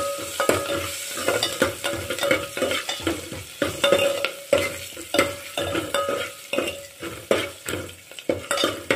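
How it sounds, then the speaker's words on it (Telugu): Green chillies and curry leaves crackle in hot oil as a tempering in a pan, with repeated clinks and scrapes of a spoon stirring in an uneven rhythm, close and fairly loud, with no talking. "అలాగే మనం తరిగి పెట్టుకున్న పచ్చిమిరకాయలు, కరివేపాకు కూడా వేసేసుకుంటున్నాను"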